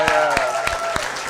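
An audience at a live talk show taping claps along in a slow, even rhythm, with about four distinct claps over a steady tonal background.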